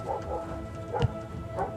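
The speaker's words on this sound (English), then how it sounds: "Doggo barking" Dog barking: a few short barks and yips spread over under two seconds, fairly faint and somewhat distant, with no talking.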